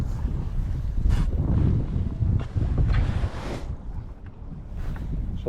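Shore wind buffeting the microphone during winter fishing, a heavy low rumble with gusty surges and brief rustling bursts, no voices.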